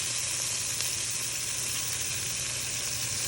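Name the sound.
onions and green peppers sizzling in a pan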